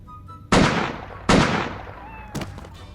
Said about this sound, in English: The next gun is the assault rifle, which is basically just a carbine